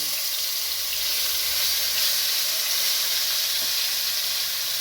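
Onions fry in a pan for onion thokku, giving a steady, moderate sizzle that holds evenly throughout without speech.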